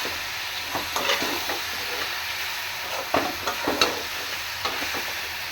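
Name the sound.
stirring food frying in a pan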